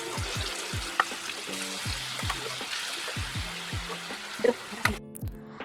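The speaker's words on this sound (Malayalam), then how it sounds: "മുപ്പത് മിനിറ്റിന് ശേഷം നമ്മൾ വേറെ ഒരു പാനിൽ 1 ടേബിൾ സ്പൂൺ ബട്ടർ ഇടാം" A tablespoon of butter sizzles in a hot pan, a soft continuous hiss broken by a few small clicks and bumps, with a low intermittent tonal hum running underneath.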